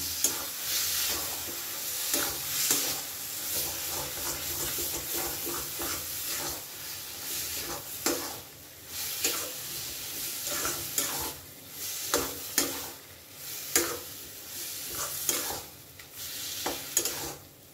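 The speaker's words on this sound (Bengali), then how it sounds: "খুব কিন্তু নেড়ে নেড়ে এটাকে শুকিয়ে নিতে হবে।" Mashed roasted eggplant is stirred and scraped in a hot frying pan, with steady sizzling and frying hiss under repeated close utensil strokes and occasional sharper scrapes.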